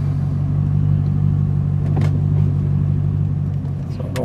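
2005 Corvette idling and rolling with a steady deep engine rumble close by, a few faint clicks and knocks over the low drone.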